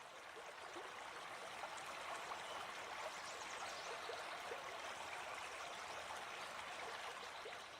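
A river stream flows with a steady, gentle rush and faint trickling. The sound is soft and continuous with no voices, forming a calm backdrop for a meditation.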